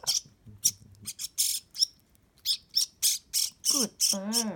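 A hungry pet bird squawks loudly in a run of sharp, close calls with short pauses, ending in a few wavering, drawn-out cries.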